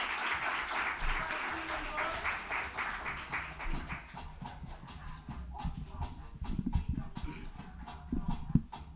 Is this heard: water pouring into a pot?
no